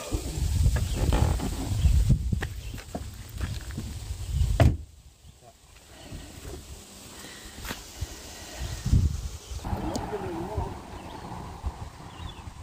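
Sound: doors being closed

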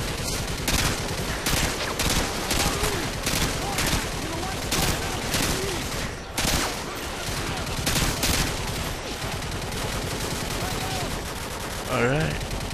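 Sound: gunfire in the video game Modern Warfare 2

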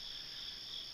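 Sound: crickets chirping in the early morning

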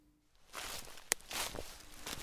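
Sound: footsteps crunching on dry leaves

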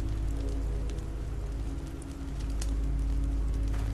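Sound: rain falling outside, from a video game

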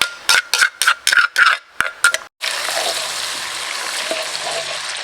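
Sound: garlic frying in oil in a pan

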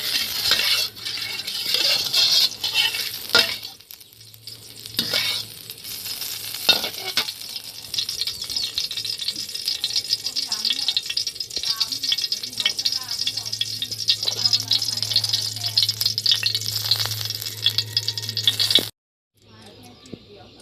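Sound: frying in hot oil in a pan, minced pork stir-fry

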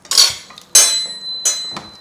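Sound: oven door being opened and closed, dishes clinking

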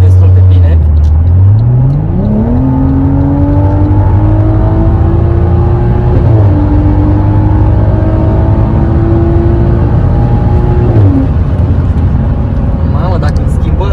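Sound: BMW 6 Series with X-pipe exhaust accelerating on highway

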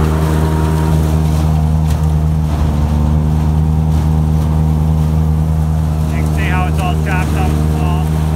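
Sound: tractor engine running wagon unloading

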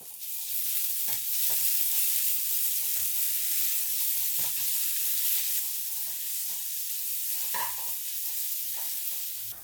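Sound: tomato frying in pan

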